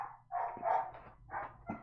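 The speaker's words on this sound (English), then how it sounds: "The dogs just started barking weird." Several dogs bark in short, uneven bursts at a moderate distance, with a few quick yips between the louder barks.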